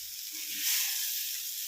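Tomato and onion fry in a pan, giving a steady, close hiss and sizzle throughout with no speech.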